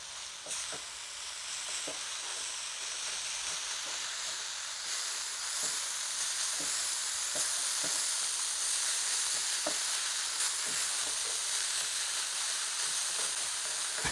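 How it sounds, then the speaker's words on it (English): Spicy chicken samosa filling with mint, spring onion and coriander is stirred and fried in a pan, giving a continuous soft sizzle with scattered scraping clicks from the spoon. "Now let's give this a nice good mix."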